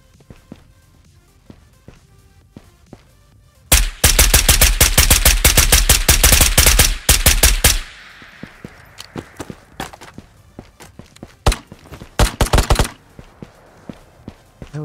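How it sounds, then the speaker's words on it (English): Automatic gunfire from an H&K G36K rifle in a raid-style shooter game: a loud sustained burst of rapid shots lasting about four seconds, followed by scattered single shots and footstep-like thuds. "That was a shot."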